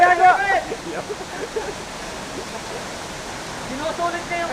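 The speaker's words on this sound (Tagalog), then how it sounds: "Ayan yung falls." The steady, broad rush of Kalayaan Twin Falls waterfall fills the background, while people talk over it nearby.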